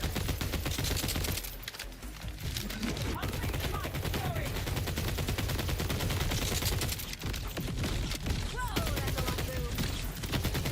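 Sustained gunfire and explosions in Borderlands 4, rapid dense volleys of shots layered with booming blasts, loud and close, with brief lulls before the barrage resumes; a voice murmurs faintly underneath.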